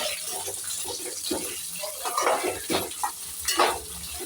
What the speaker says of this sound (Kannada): ಸ್ವಲ್ಪ ನೀಟಾಗಿ ಇದನ್ನು ನಾವು ಫ್ರೈ ಮಾಡ್ಕೊಬೇಕು